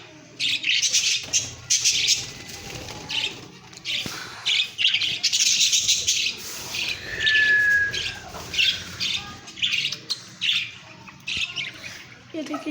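A mother bird and her chicks chirp and squawk in bursts close by, with short tweets and calls repeating irregularly and a voice speaking between them.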